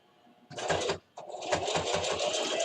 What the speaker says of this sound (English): I'm going to take it under the machine. And I'm going to stitch across.